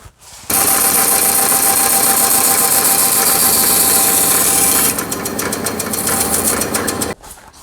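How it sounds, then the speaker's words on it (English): A bandsaw cuts through a part for a 25-foot man-lift hydraulic cylinder, running loud and steady for about seven seconds with a harsh, high-pitched grinding whine that shifts tone partway through the cut, then stops abruptly. "I'm just going to take it on the bandsaw, just using this top as a pattern."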